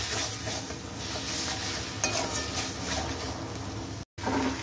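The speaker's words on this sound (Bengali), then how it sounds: "টমেটোটাকে ভালো করে পেঁয়াজের সাথে কষিয়ে নেব।" Boiled tomato being sautéed with onions in a pan, a constant close sizzle mixed with scraping stirring strokes, cut by a brief silent gap near the end before the frying resumes.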